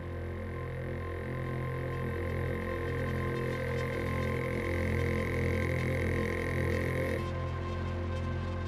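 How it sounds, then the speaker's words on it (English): Dense ambient atmosphere pad with little vocal content, a steady layered drone of sustained tones that holds evenly before the upper layers drop away near the end. "Let's see if I can find an atmosphere that does not have much vocal in it."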